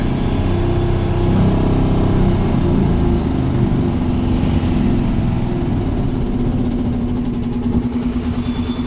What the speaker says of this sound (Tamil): அந்த வண்டி ரிவேஸ் வருது பார்த்தீங்களா